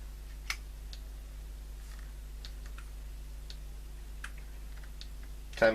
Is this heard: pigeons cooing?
no